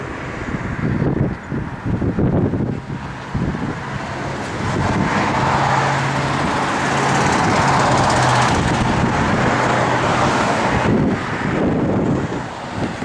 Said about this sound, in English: It's just so cold and windy.